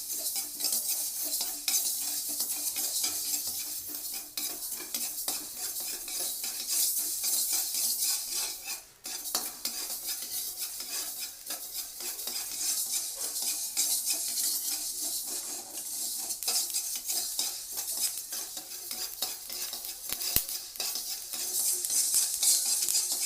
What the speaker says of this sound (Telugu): మెంతులు వేయించుకోవాలి. ఈ మెంతులు లైట్గా వేగితే సరిపోతాయి.